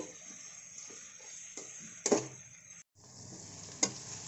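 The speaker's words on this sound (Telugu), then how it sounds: "ఉల్లిపాయలు పచ్చిమిరకాయలు ఇలా బాగా వేగాలండి" Onions and green chillies fry in a pan, giving a faint, steady sizzle broken by a couple of sharp stirring scrapes.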